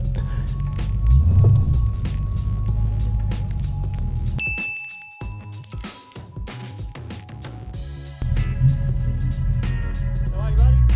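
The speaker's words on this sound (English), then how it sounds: "I can't help myself but give it a little rev every now and then." A 1976 Ford ZH Fairlane pulling up to a car show, its engine rumbling loud and close with low throaty revs that swell at the start and end around a quieter middle stretch, with metallic dings mixed in.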